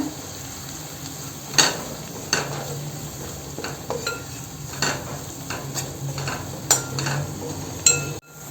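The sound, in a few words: sautéing onion, turmeric and Malvani masala in oil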